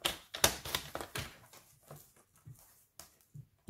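Paper is sliced on a trimmer while making a Stampin' Up card, giving a few short scraping cuts and taps that fade into softer brushes and clicks at close range.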